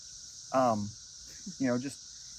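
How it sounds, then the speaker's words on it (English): Cicadas drone in the background as a steady high-pitched buzz throughout, while people talk briefly in the foreground over it. "Forewarning everyone about all the different sounds, cicada sounds in the background."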